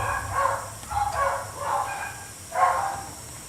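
Several neighborhood dogs bark in the distance, about four short bursts of barking spaced a second or so apart over a faint steady background hiss.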